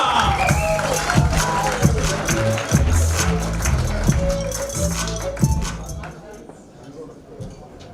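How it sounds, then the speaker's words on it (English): An audience at a live standup comedy competition claps and cheers in a dense, rhythmic burst of applause with shouts that gradually fades out toward the end, while a voice talks over it. "start clapping, start cheering"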